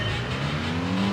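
Race car in the 1998 PS1 video game Gran Turismo accelerating, a steady buzzing engine drone rising slightly in pitch over a brief moment.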